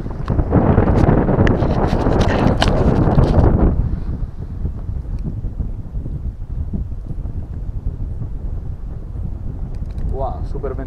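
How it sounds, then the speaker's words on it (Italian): Strong wind rushes through an underground duct at an abandoned NATO military base, loud gusting buffeting at first, then settling into a lower, steady blowing hiss. "guardate quanto è forte il vento che sta nel condotto"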